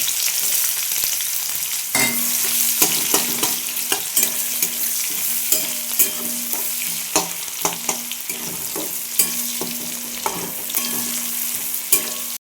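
Chopped onions hit hot oil with whole cumin seeds and bay leaf, giving a steady loud sizzle broken by frequent clicks of a spatula stirring the pan, no voices.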